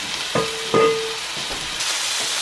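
Goat meat searing in a pot for Jamaican curry goat, with a steady sizzle and a few sharp clanks of a utensil stirring against the pot, close and clear without speech.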